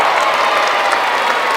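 Jersey Bulls home football crowd applauding and cheering at a match against AFC Whyteleafe, a dense, steady wash of clapping and crowd noise that holds loud throughout.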